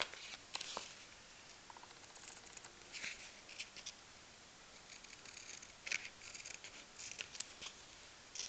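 Scissors snip through craft material for a small Christmas tree drum ornament. The cuts are quiet, close and sparse, scattered crisp snips over faint rustling with no talking.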